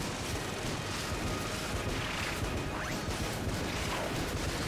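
Dense, continuous gunfire and explosions in the video game Enter the Gungeon, a loud unbroken wash of rapid shots and crashes with no pauses and no voices.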